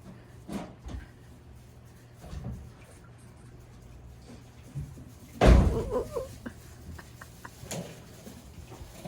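A single solid thud of a door shutting midway through, amid quiet room noise with faint scattered knocks.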